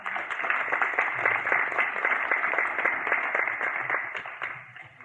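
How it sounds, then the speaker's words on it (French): Steady, moderate applause from attendees at an inaugural community council meeting in an indoor hall, many hands clapping continuously, fading slightly toward the end. "vous pouvez les applaudir"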